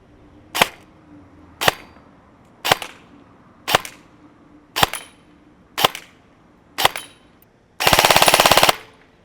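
EMG Sharps Bros airsoft AEG rifle on an 11.1 volt LiPo with 0.20 BBs firing seven sharp single shots at even intervals, then a short rapid full-auto burst, loud and close.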